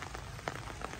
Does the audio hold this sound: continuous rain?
yes